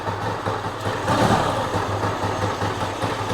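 A Yamaha GT80 motorcycle being kick-started after being freed from a seized state. A steady, mid-pitched engine runs close by with a slight swell partway through, and no one speaks.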